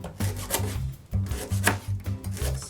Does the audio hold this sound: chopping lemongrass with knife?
yes